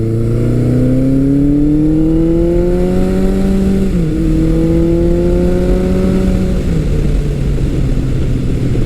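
A vintage Suzuki GS motorcycle engine revs while riding, its loud, close note rising smoothly through the gears with a quick dip at each shift, over steady wind rush.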